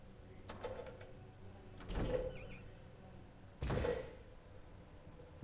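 A door in Resident Evil Remake opens with two heavy thuds about a second and a half apart, the creaking swing standing out over a quiet, low game ambience.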